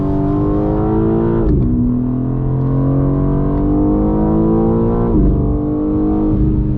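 A 2022 BMW M4 Competition xDrive's loud engine accelerates with rising pitch, then drops sharply in revs at two downshifts before climbing again, close up and continuous.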